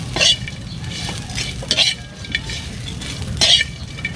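Dried fish being stirred in a hot pan while dry-roasted (sangag), with scraping utensil strokes and light sizzling that come in a few louder bursts close by.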